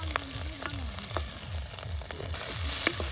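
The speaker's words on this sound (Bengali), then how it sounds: "বাহ, এই যে চাপা শুটকিগুলো কিন্তু এখন দিয়ে দেওয়া হলো, একদম তেলে কিন্তু এই যে ভেজে নেওয়া হচ্ছে চাপা।" Chapa shutki, dried fish, frying in oil at an outdoor cooking gathering, a close continuous sizzle with rhythmic low stirring scrapes and occasional sharp pops; no voices.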